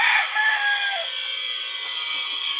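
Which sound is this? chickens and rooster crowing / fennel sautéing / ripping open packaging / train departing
chickens and rooster crowing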